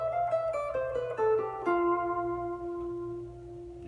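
Guitar plucking a descending run of single notes in the Lydian mode from F, about seven clear, ringing notes in quick succession, with the last note sustained and fading, quiet and alone.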